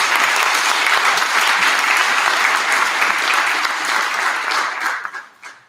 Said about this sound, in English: Can we give our faculty a round of applause?